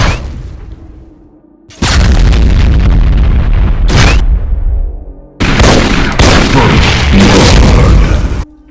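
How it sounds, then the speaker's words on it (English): A Cyberdemon in a Doom mod fires dual heavy railgun shots: loud, dense booming blasts in two sustained bursts broken by a short pause, with a faint hum before the first. "dual heavy railgun shots"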